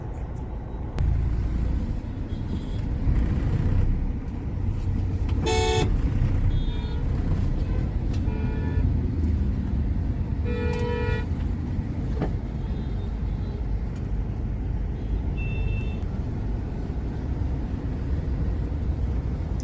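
Dense road traffic on a jammed airport road in Mumbai, a steady engine and tyre rumble throughout with a few short car horn toots standing out, the clearest burst around the middle, plus scattered lighter beeps.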